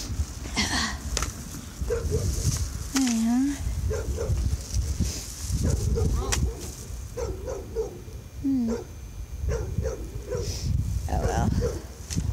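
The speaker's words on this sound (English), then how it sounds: "now there's a dog across the street barking at me" A dog barks from across the street on an outdoor walk before heavy rain, its brief yips and whimpering barks coming in scattered bursts under nearby talking and rustling.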